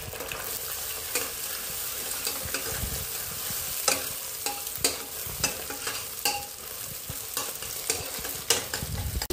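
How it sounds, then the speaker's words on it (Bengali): Omelette egg being scrambled in oil in a wok, a steady crackling sizzle with repeated sharp spatula scrapes and knocks at an uneven rhythm, close and moderately loud. "কড়াইতে আবার একটু তেল দিয়ে দিলাম, দিয়ে ডিমের অমলেটটাকে একটু ঝুড়ো করে নেব"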